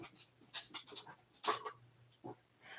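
A dog pants and shuffles about nearby, giving short bursts of breathy, rustling movement with pauses between them. A steady low hum runs underneath.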